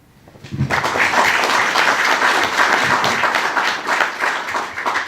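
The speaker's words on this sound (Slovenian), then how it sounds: "Tako da je lep aplavz tudi za vašo prisotnost." An audience at a European evening political round table in Tolmin breaks into applause, starting abruptly after a brief quiet and holding as a loud, sustained, dense clapping of many hands.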